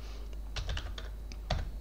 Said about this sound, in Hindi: मैं सिंपल एक कीबोर्ड से एक बटन प्रेस कर रहा हूँ